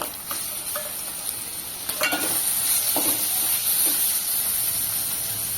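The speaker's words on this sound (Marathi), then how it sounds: "आता याच्यामध्ये टोमॅटो घालते" Tomatoes go into a pan of frying bombil (Bombay duck) masala, bringing a loud close hiss and sizzle with a few scraping stirs and clinks. The sizzle grows slightly stronger after the addition and no voices are heard.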